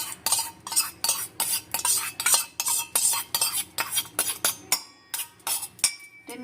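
A spoon stirring spice paste mixed with sour curd in a metal bowl for a Bengali potol kofta curry, a quick run of repeated clinks and scrapes, close and fairly steady in rhythm.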